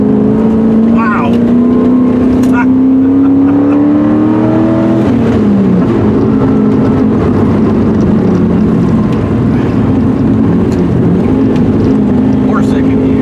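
An LS V8-swapped Porsche 944 pulls hard in second gear on a gravel-strewn road. The engine roars loud and close, its pitch climbing, dipping briefly around midway, then droning on steadily with strong, continuous intensity.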